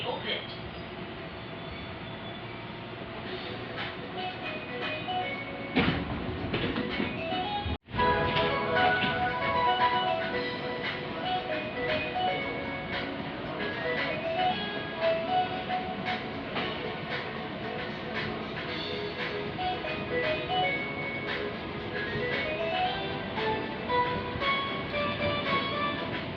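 A commuter train on the Bogor to Jakarta Kota line at night rumbles continuously through a long ride, with rail and wheel noise, a brief sharp break partway through, and a voice sounding over the running train.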